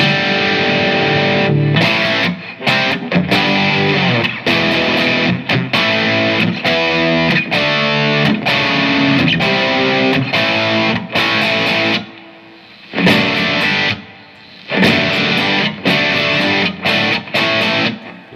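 Heavily distorted electric guitar with added reverb chugs through rock riffs, loud and continuous with brief pauses between phrases.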